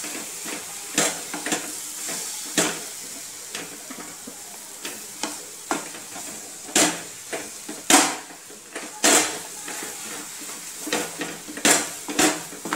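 Coconut barfi mixture stirred in a pan on low heat, a gentle sizzle under repeated scraping strokes of a spoon against the pan at an irregular rhythm.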